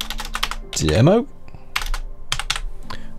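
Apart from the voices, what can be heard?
typing on a computer keyboard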